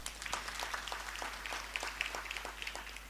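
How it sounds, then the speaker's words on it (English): Applause from participants at a Kenyan National Treasury sector budget hearing, a steady patter of many hands clapping in a room, moderately loud and continuous with scattered sharper claps. "Let's give him a better round of applause."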